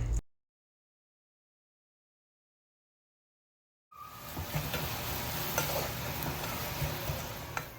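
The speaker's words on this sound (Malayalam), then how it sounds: "കുറച്ച് വെളിച്ചെണ്ണയോടെ ചേർത്തിട്ട് ഈ സവോള ഒന്ന് വഴറ്റിയെടുക്കണം" Onions sauté in coconut oil in a pan used earlier for frying crab, a steady close sizzle with stirring scrapes that starts after several seconds of silence.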